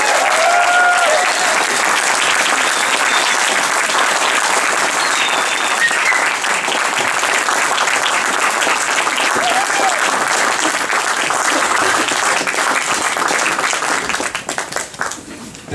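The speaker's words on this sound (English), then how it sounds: "Give them a round of applause." A concert audience at a traditional Irish music charity event gives a long, loud burst of applause for the student performers. Dense clapping holds steady for about fourteen seconds, then tapers into a few scattered claps.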